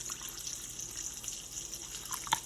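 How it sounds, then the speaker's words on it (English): Water is poured into a marinade in a kitchen while preparing a tri-tip roast, a steady soft trickle and splash throughout with a brief sharper splash near the end, no talking. "We'll add some water to it."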